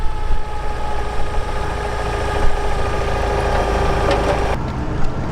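A Toyota 8 Series forklift's 4Y engine idles after a tune-up, running with a steady, even mechanical hum and faint rhythmic pulsing, close and fairly loud, with no talking.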